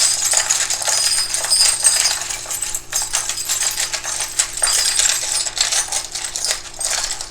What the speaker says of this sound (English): I don't actually look in here as I shuffle around and get these charms.